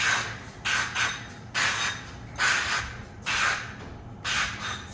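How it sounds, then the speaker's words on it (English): Chosen avocado oil cooking spray misted onto a baking pan in six short hissing bursts at a steady rhythm, close and distinct against a low background hum. "This is the Chosen avocado oil spray."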